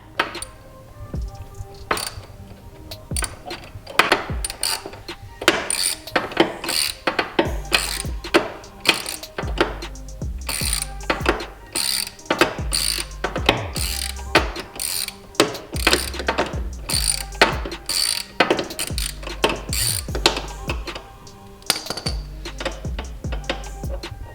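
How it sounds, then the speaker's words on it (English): Ratchet wrench with a couple of extensions and a 17mm socket loosening the oil drain plug bolt on a CFMOTO ZForce side-by-side, giving repeated rapid clicking bursts with metallic clanks, close and fairly loud throughout. "take a couple extensions and a 17mm socket and take the bolt out"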